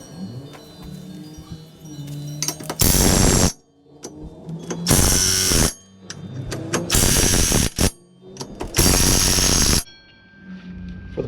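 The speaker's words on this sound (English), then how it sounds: "For the price, this impact wrench from Harbor Freight, I think I've said it 3 times, this thing's a stud." A Harbor Freight impact wrench works on a 2021 Polaris 570 wheel, hammering in four loud, close bursts of a second or so each, separated by short pauses with quieter mechanical clicks and ratcheting in between.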